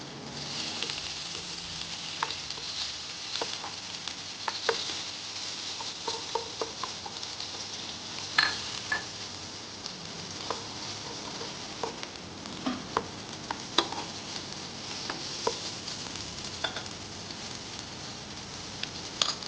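Tomatoes sizzle and fry in a pan for a creamy shrimp sauce, a steady close hiss broken by scattered clicks and scrapes of stirring, with no talking.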